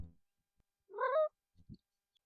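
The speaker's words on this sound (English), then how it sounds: "My cat just meowed at me." A pet cat named Persephone lets out a single clear, drawn-out meow close by in a quiet room, followed by a couple of soft faint thumps.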